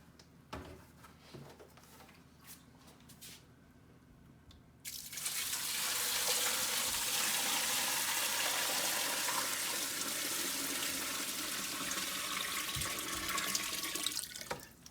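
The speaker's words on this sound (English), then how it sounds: "I'm going to add water." Water gushes steadily into a large stock pot of bones, a loud continuous pour starting after a few seconds of quiet handling noises, close up.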